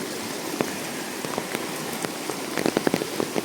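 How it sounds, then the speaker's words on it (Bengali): Heavy rain pours onto flooded ground in Karnataka, a constant dense hiss dotted with sharp nearby drop splashes, and no voices. "বৃষ্টিটা হইতেছে"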